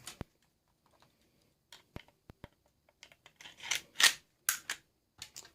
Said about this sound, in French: On remonte notre culasse